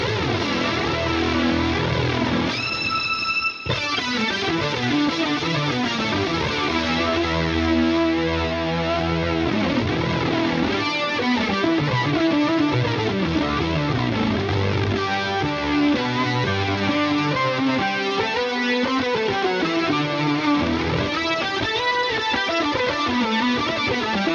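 An electric guitar plays through heavy fuzz and an octave pitch shifter, giving thick, buzzy, synth-like tones with shifting chords throughout.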